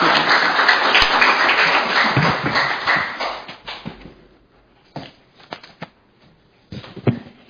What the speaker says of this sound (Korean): 뜨거운 박수로 유승희 씨.